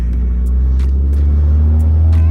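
A 2008 Mazda Speed 3 fitted with a swapped 2.5L engine runs steadily, a loud, close, deep rumbling idle with an even droning hum throughout.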